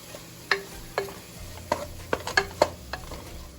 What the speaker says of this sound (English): And a little salt. And then just mix it up.